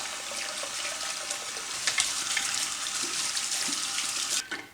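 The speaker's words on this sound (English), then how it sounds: "you're gonna wanna run these brushes or combs underneath warm water again" Warm tap water runs steadily into a sink while hair brushes and combs are rinsed under it, a close, even hiss with small splashing changes as the tools shift in the stream.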